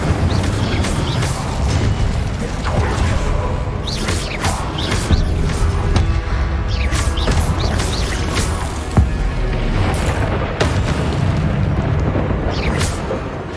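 Incendio fire spell blasting in Hogwarts Legacy: loud, continuous fiery roaring and booming during combat, punctuated by sharp bursts and crashes throughout.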